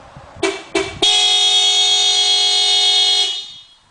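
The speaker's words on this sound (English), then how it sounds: "I'm going to activate the panic feature by holding the close lock button." A 2009 Toyota RAV4's horn sounds as the panic alarm: two short honks, then one long, loud, sustained blare that cuts off, heard close with no talking.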